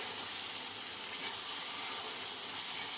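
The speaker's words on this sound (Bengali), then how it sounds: "আর এখানে মটর সিদ্ধ হচ্ছে।" Peas boil in a pot while mutton ghugni is being prepared, giving a steady, close hiss of bubbling water and steam with no voices.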